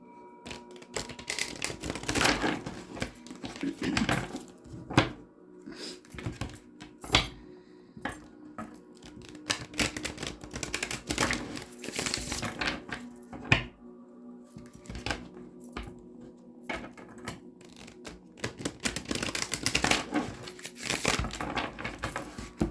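Tarot cards are shuffled repeatedly by hand, bursts of riffling and rustling papery clatter coming in waves with short pauses between.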